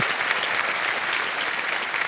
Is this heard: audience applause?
yes